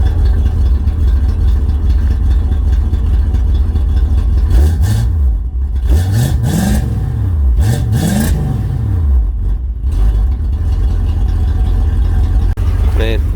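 A 1962 Ford Fairlane 500 V8 with a broken transmission drives along, its mid-pitched engine running steadily with several rising and falling rev swells partway through, heard from inside the car close up, with a voice talking over it.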